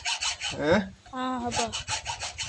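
A sediment filter cartridge is sawn open, with a steady rasping, rubbing stroke that repeats in short bursts close up. A brief bit of speech breaks in partway through.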